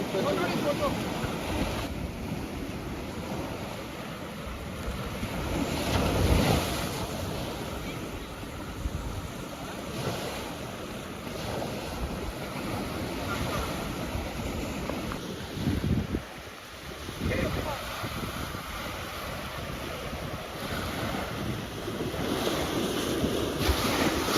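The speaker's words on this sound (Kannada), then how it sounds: "ಸಮುದ್ರ ನೋಡ್ರಿ, ಪೂರಾ ಎಲ್ಲಿ ನೋಡಿದ್ರು ಕಣ್ಣು ತುಂಬ ಅದೇ ಕಾಣಿಸ್ತದ" Sea surf rolls in at Kakolem beach in Goa, viewed from a clifftop viewpoint, a steady broad wash of waves mixed with wind buffeting the microphone, continuous throughout.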